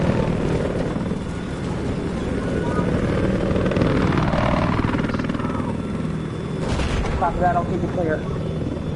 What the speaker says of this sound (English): Anybody got eyes on the helo?